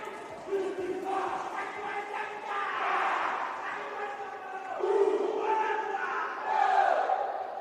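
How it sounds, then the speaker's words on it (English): Team Samoa's war chant rises from the crowd at a sporting event, a chorus of loud, rhythmic shouted voices that swell in waves across several seconds. "Team Samoa welcoming out on the platform with a big war chant."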